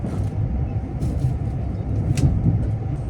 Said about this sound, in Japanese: 米原駅を出発しました。